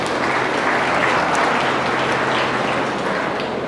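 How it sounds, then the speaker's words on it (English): Loud, dense, steady applause from a crowd at a county fair 4-H beef show ring, sustained evenly throughout with no break. "can we give all five of these a huge round of applause because they're doing great"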